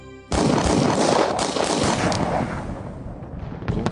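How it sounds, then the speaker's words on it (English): After a brief quiet, loud gunfire erupts in a dense, rapid volley of overlapping shots that carries on and tapers slightly before more sharp cracks. "The silence was followed by the sound of gunfire."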